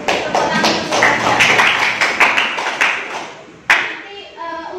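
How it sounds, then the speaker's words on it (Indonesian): Students in a classroom clap for a presenter, a short burst of uneven, close hand claps that thins out into a few scattered claps and taps near the end. "Ya, tepuk tangan untuk saya."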